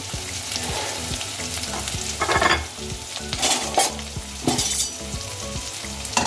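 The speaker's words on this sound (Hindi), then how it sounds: "सबको मिक्स करेंगे" Poha being mixed with turmeric and salt in a hot pan, a loud steady sizzle with repeated scraping and tapping stirs of a spoon against the pan.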